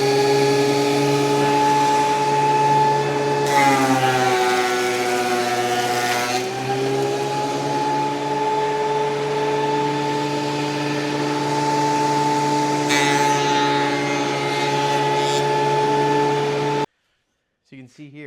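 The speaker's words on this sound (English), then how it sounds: "Now I'll throw this piece of rough lumber that I got through this planer" A Ridgid thickness planer feeds a board of rough lumber, its loud steady machine whine holding for about seventeen seconds with a brief higher cutting surge early on, then cutting off abruptly.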